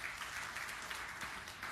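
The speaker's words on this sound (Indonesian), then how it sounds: "Beri tepuk tangan yang meriah bagi Tuhan Yesus." A church congregation applauding during a sermon, a faint, continuous wash of clapping from a crowd heard at a distance.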